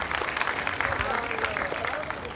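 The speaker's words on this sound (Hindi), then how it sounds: "इनके लिए ज़ोरदार तालियां हो जाए।" An audience at an IT class held at Governor House gives a hearty round of clapping for a guest, sustained many-handed applause with some voices mixed in.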